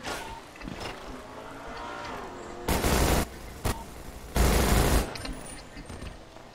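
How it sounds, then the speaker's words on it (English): Gunfire in Grand Theft Auto, loud bursts of rapid shots in two main volleys over a background of game ambience and engine-like noise. "they're shooting at you!"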